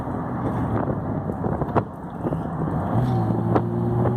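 A 1970 Triumph TR6 sports car engine, fully warmed up, hums steadily with a low, rumbling drone while driving, rising slightly in pitch toward the end, with wind buffeting the microphone.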